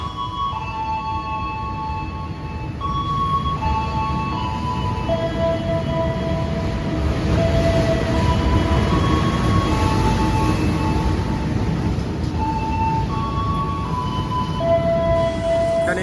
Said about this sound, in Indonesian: Dan ini baru aja masuk kereta api Arjuna Express dari stasiun Surabaya Gubeng ke stasiun Malang.